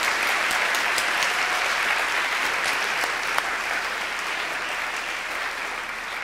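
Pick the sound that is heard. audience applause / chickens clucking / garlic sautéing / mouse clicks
audience applause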